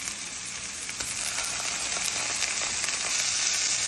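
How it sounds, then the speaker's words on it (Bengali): Onion fries in hot oil in a pan, giving a loud, close, continuous sizzle that holds steady and grows slightly fuller toward the end. "পেঁয়াজটাকে কিছুক্ষণ একটু ভেজে পরে আদা বাটা দিয়ে দিব।"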